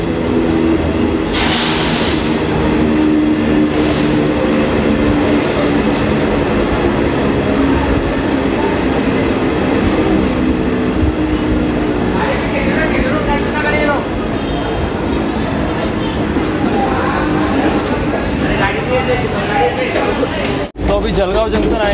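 The Garib Rath Express rolls near Jalgaon station with a loud, continuous rumble of wheels on rails, occasional squeals and clatter, and someone speaking over the train noise.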